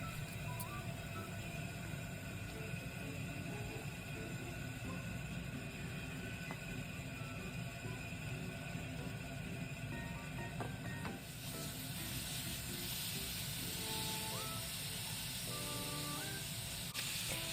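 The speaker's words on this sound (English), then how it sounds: "Cut the butter. Saute the pork." Pork sautés in melted butter in a pan for Japanese home-style curry, giving a steady, close sizzling hiss that runs unbroken throughout and brightens slightly toward the end, with no voices.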